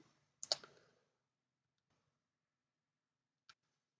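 A few faint plastic clicks from keys pressed on a graphing calculator keypad: a quick cluster at the start, then one lone tap after a pause, close and quiet with no talk.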